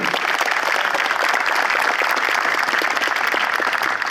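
Dense, steady applause from an audience at an agricultural talk in Hatay, welcoming a speaker to the podium; continuous clapping fills the whole stretch at an even, loud level with no voices over it.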